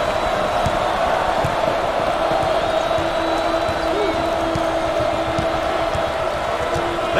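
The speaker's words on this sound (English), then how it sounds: "You have the crowd chanting, jumping around, fired up." Home-court arena crowd in the NCAA Basketball 10 video game, Memphis vs Gonzaga, roaring and chanting steadily as a loud continuous wash, with scattered ball bounces and sneaker noise beneath and no clear talk.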